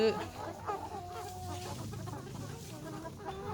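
Several hens cluck and murmur softly nearby in an uneven, continuous chatter, with a faint rooster-like call and background farmyard ambience in Bang Pahan, Ayutthaya, Thailand.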